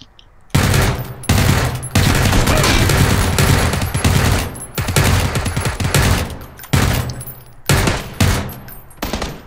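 Automatic gunfire from a UMP9 in the video game PlayerUnknown's Battlegrounds, loud and close, in sustained rapid bursts broken by several short pauses.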